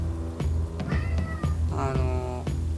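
A house cat meows several times indoors in short, wavering calls, heard close over a steady low hum.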